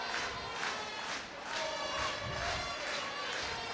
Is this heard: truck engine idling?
no